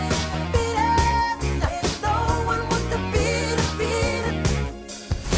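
A song from its original 1983 studio multitracks plays loud and full, with a driving drum beat, bass and layered instruments in a steady groove.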